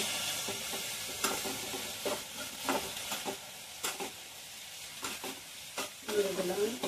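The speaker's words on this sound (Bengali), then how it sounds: "হলুদ গুঁড়ো, নেড়ে দেবো।" Turmeric powder being stirred into frying food, giving a steady sizzle with a run of scraping stirring strokes spread across the clip, close and fairly quiet.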